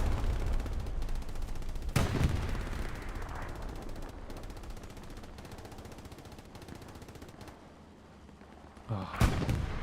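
Artillery and gunfire in a multiplayer battle video game: heavy booming impacts near the start and end, with rapid bursts of shots crackling in between, loud and close, under faint background voices.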